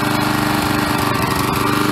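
A flood-damaged lawn mower engine, revived and running steadily, loud and close with a continuous buzzing drone and no other sound.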